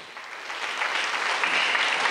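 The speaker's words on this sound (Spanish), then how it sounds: "Den la aplauso al Eterno" Congregation applause at an evangelical church service after a sermon on Psalm 23, a dense, steady wash of many hands clapping together, building slightly and holding loud and close for the whole stretch, with no voices on top.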